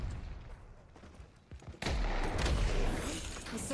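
A turret fires in the Deadlock video game, starting as a faint rumble and turning into a sudden loud, sustained stretch of dense gunfire and impacts partway through.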